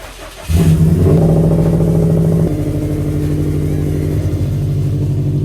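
A Hyper Blue Subaru WRX STI starts up and idles with a loud, steady boxer-engine rumble, a brief rev lifting then settling into a lower even drone as it pulls out of a garage, close by with no talking.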